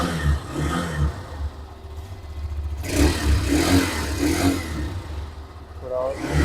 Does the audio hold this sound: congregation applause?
no